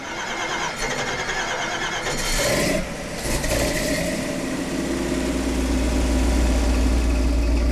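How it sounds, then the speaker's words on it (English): A Ford 460 big block V8 fires up and settles into a loud, steady idle through Super 40 mufflers, a deep rumble carrying on close by with no talk over it. "there's nothing like the sound of a big block going through a set of Super 40s"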